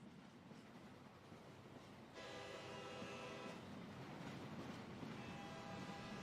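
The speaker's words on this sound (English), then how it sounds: "So this is the second round of the train," A train rolls past in the Mumbai level of the stealth video game Hitman 2, a steady loud rumble of wheels and rail clatter with a horn-like tonal blare coming in partway through and holding to the end.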